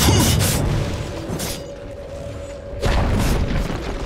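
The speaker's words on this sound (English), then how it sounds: "Dire's middle tower has fallen." A tower collapses in a Dota 2 match with a loud low crumbling boom and rumble, which fades and then surges again with a second heavy impact near the end.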